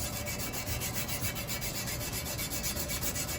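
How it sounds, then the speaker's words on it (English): Steady rhythmic rasping of 180 grit sandpaper worked span-wise along an aluminum propeller blade, close and continuous, with even back-and-forth strokes and no talking. "switch to the 180 grit sandpaper, and you're going to sand again, moving the same direction, span-wise"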